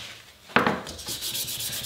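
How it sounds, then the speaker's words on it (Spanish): Sandpaper rubbing over a dampened wooden knife handle, a brief scratchy scrape followed by steady back-and-forth rasping, close and clear. "con el mango una vez húmedo, lo vamos a lijar para todo ese pelito que se ha levantado"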